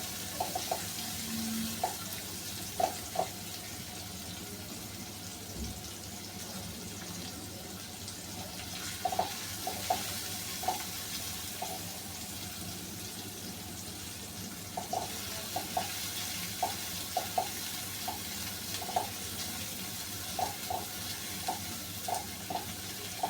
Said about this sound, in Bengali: পেঁয়াজটা একেবারে বেশি ভাজবো না, হালকা একটু নরম হয়ে আসছে।